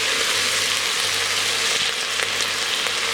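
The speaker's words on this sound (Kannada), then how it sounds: "ಇದು 3 ಹಾಕಿಬಿಟ್ಟು ಒಂದು 2 ನಿಮಿಷ ಚೆನ್ನಾಗಿ ಫ್ರೈ ಮಾಡ್ಕೊಳ್ಳಿ." Potatoes fry in a pan in an electric cooker, a steady dense sizzle at close range that holds level throughout with no voices over it.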